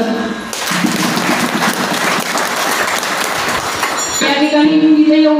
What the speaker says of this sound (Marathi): परत एकदा टाळी वाजवा.